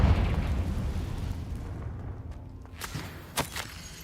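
A Confringo spell blast in the Hogwarts Legacy game on PS5 opens with a loud, broad rumbling boom that fades out over several seconds, followed by a few sharp cracking bursts near the end.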